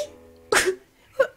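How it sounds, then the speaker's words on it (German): A single loud, close sneeze from a person bursts out after a brief pause, followed by a short sharp vocal catch. "ich glaube, ich muss gleich niesen."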